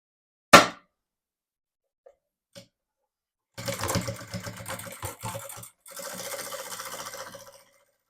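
A sewing machine stitching the fabric lining of a beaded bag: a sharp click first, then two bursts of rapid mechanical whirring separated by a short pause.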